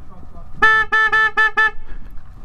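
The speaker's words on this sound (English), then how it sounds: "That's what you get when you come and honk and beep. Blow your horn in my house!" A car horn honks in a series of short blasts, about five beeps in quick succession, loud and close, with faint background murmur.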